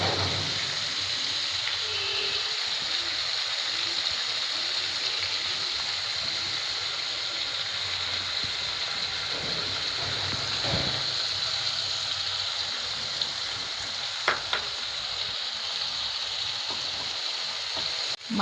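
Minced meat frying in a pan with ginger, cumin and coriander paste, a steady soft sizzle throughout with occasional light clinks of stirring, no voice.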